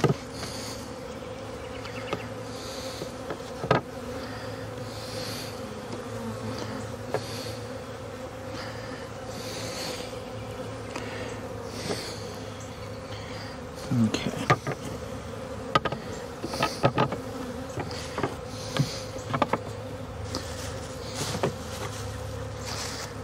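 Honey bees from newly installed packages buzz continuously around a horizontal hive in a soft, steady drone, with occasional louder passes and faint knocks.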